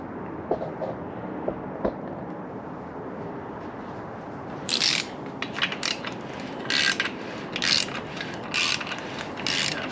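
A hand ratchet cranks the crankshaft of a 6.0 LS V8 engine build, setting valvetrain parts with number 1 piston at top dead center: bursts of quick metallic clicking, close and crisp, repeating in short runs after a quiet start.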